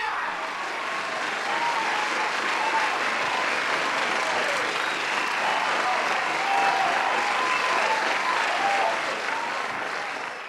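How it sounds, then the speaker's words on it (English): Loud, sustained applause from an audience welcoming a guest fills more than ten seconds as a thick, unbroken wash of clapping with a crowd murmur underneath, then trails off slightly at the end. "Give him a round of applause"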